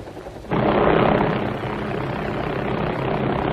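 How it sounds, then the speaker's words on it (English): A yellow Bell 47 helicopter flies during a 1979 police TV pursuit, its steady rotor and engine drone cutting in loud after a brief quieter moment and holding near and continuous with no talk. "Aircraft is a Bell 47 helicopter"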